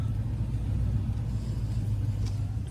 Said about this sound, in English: Full load on the truck pulling out of the pumpkin patch